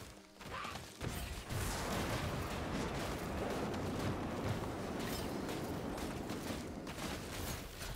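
Enemy gunfire rolls on almost without a break in a video game combat scenario, a dense, loud wash of rapid shots and crashing impacts that starts after a short pause and holds steady.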